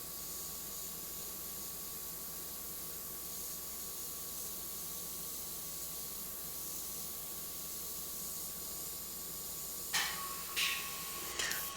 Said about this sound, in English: I'm actually aiming my airbrush in toward the skull to keep the overspray off of the base coat.